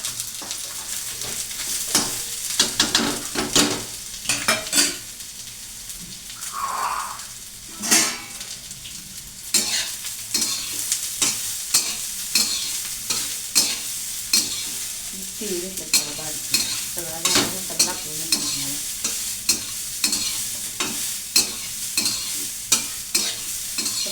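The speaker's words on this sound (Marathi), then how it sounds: "कांदा वगैरे गोंडा आहे आणि मी खोबरं आणलं ते सगळं परतून घेणार आहे" Onion and grated coconut masala sautéed in a pan for a spicy village-style mutton dish, with steady sizzling and repeated sharp stirring scrapes and clinks of a utensil against the pan throughout.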